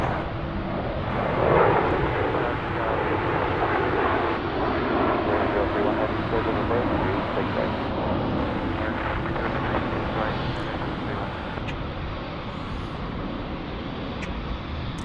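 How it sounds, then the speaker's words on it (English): MD-11 jets at DFW Airport produce a steady, broad engine roar that hangs in the air throughout, mixed with wind buffeting on the microphone. "There we see an MD-11. A couple of MD-11s."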